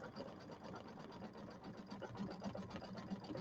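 A Kimberbell embroidery machine stitches a thick satin stitch border with a steady, rapid mechanical whirring, a continuous close hum with fine rhythmic ticking and no voices.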